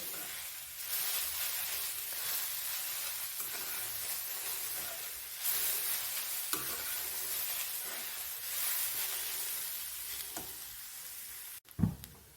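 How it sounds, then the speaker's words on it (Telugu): Grated carrot fries in ghee and is stirred steadily, a continuous close sizzle with soft scraping, a sharp louder clatter near the end. "ఇది మధ్యలో కలుపుతూ ఉండండి, అడుగట్టకుండా ఉంటుంది."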